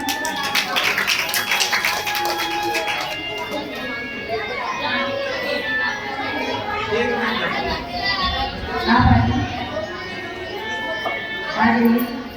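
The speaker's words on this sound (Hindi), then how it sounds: "सरस्वती जी के लिए जोरदार तालियां" A crowd at a Shrimad Bhagwat Katha gathering in Panchkula breaks into applause, a dense burst of clapping at the start. It settles into chatter, with children's voices and scattered taps underneath.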